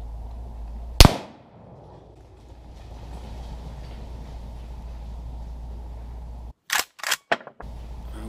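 A single rifle shot at a wild boar gives one sharp, loud crack with a short decaying rumble. A few quick clicks follow several seconds later, and no one speaks.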